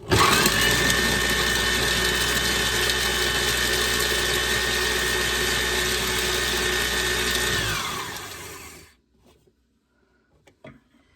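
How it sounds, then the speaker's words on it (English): A kitchen blender grinds cooked bacon into fine bacon bits for Southern-style candied brown sugar carrots. The motor whirs loud and steady for about eight seconds, then winds down and stops, leaving near silence with a few faint clicks. "We're going to get it pulverized into bacon bits."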